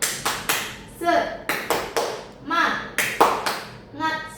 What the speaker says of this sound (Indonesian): jadi tepuk semangat itu seperti ini ya. Tepuk semangat.